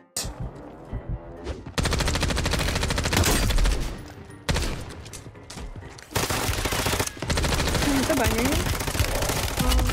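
Loud bursts of gunfire from a Warzone 3 match, dense stretches of rapid shots broken by short lulls, with sharp sniper-rifle cracks mixed in and players talking excitedly over the action.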